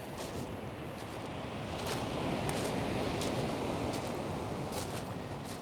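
Surf rolls in at North Beach, a broad continuous roar of breaking waves that swells slightly midway, with wind brushing the microphone.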